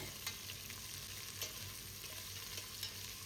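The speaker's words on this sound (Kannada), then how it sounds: "ಒಂದು ಆನಿಯನ್ನ ಆ್ಯಡ್ ಮಾಡ್ತಿದ್ದೇನೆ. ನೆಕ್ಸ್ಟ್ ಇದು ಹುರಿಬೇಕು." Onion frying in a pan for chicken biryani makes a steady, faint sizzle with light periodic scraping from stirring, close by and with no talking.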